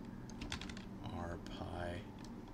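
Rapid typing on a computer keyboard while entering Linux commands on a Raspberry Pi 3 setup, a close, busy run of clicking keystrokes over a low background hum.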